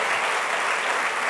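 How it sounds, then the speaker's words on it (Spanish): A church congregation claps for Jesus of Nazareth during a Sunday sermon, a dense, steady burst of applause filling the room for about a second and a half without pause. "Démosle gloria y un aplauso grande a Jesús de Nazaret"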